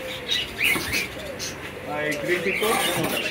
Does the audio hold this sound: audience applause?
no